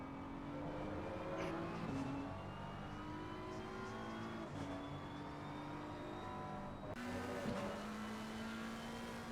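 GT3 race cars in the ACC racing game circle Suzuka, several engines droning and shifting pitch together as they close up, with a steady layered whine, occasional gear changes and no voices.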